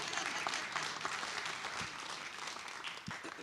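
A meeting audience at a design charrette kickoff claps steadily together, a fairly faint, continuous patter of many hands with no speech over it.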